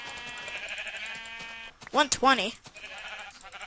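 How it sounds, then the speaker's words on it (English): Sheep in the Minecraft video game bleat twice in quick succession, clear wavering calls over background game music, with a voice speaking briefly. "I need to kill two more sheep until I get a bed."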